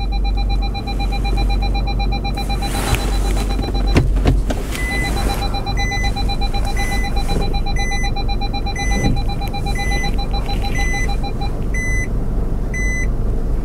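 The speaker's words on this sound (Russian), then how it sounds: "Запищал правый сонар." Steady electronic beeping from a car's right-side parking sonar, first a fast continuous run of beeps, then slower evenly spaced pairs over a low engine hum.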